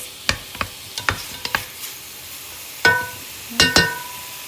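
Pancit ingredients cooking in a pan, a quiet sizzle under a series of sharp metallic clicks and scrapes as a utensil strikes and stirs, spaced irregularly with a louder cluster near the end.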